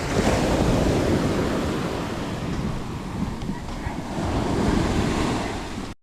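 Waves surge and crash continuously close by, with strong wind buffeting the microphone throughout.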